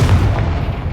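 Confringo blasting spell exploding in Hogwarts Legacy, a loud, close, deep boom with a rumbling body that fills the whole short moment.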